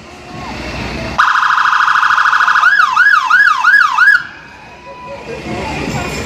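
A fire brigade siren leads a pride march in Jersey, blaring loud and close, first a steady high wail and then a rapid rising-falling yelp before it cuts off abruptly, with crowd noise around it.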